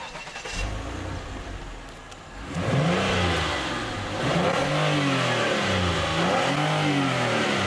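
Armored car with a Camaro's V6 engine revving up close through its dual exhaust, repeated surging climbs and drops over a loud idle, with no voices.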